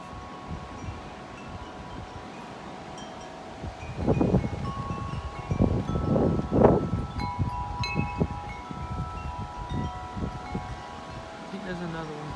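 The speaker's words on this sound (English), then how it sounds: "the wind died down a little bit. But it did pick up." Strong wind before a storm, gusting in several loud rushing bursts against the microphone over a steady background hiss, swelling and then easing off.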